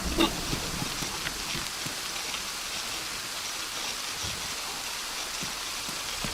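Steady rainfall at night in the survival game DayZ, a soft even hiss of drops on surfaces with occasional faint taps, fairly quiet and continuous.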